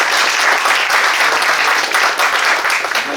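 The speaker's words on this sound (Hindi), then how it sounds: "खुशी की बात है, ताली बजा लीजिए एक बार" An audience at a college event claps together for a new business incubator, producing a dense, steady, loud burst of applause that holds for several seconds.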